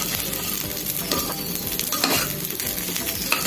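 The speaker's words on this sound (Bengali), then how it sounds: "চালটা ভাজবো যতক্ষণ না এই চাল থেকে একটা আওয়াজ আসবে তখন বুঝে নেবো যে আমার চালটা" Raw rice for Bengali sweet basanti pulao is dry-fried and stirred in a pan, giving a steady, close scraping and rattling of grains with light sizzle throughout, no voices.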